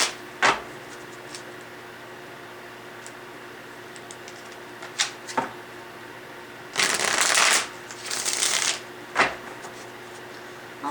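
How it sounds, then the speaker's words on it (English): Tarot cards being shuffled: a few sharp single card snaps, then two longer riffling bursts close by, with quiet gaps between them. "Let's get 2 more shuffles"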